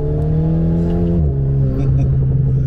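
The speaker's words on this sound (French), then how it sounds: "la particularité de l'Alpine, tout le monde le sait, c'est cette sonorité au niveau de la boîte à air" An Alpine A110 sports car engine hums with a strong, steady tone from the air box, dropping in pitch partway through and then settling into a lower, rougher drone, close and alone.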